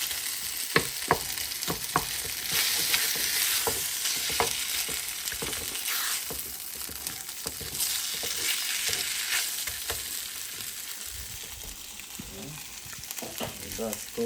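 Turkey fat rendering in a pot, a steady close sizzle and spatter with occasional stirring scrapes and clinks throughout.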